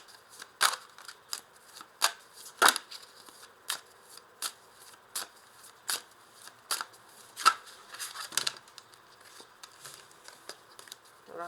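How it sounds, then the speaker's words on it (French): Tarot cards are drawn and shuffled during a reading, producing a series of crisp, close flicks and snaps spaced irregularly throughout, with some quick clustered riffles and light papery rustles between them. "Alors, on va rajouter une carte."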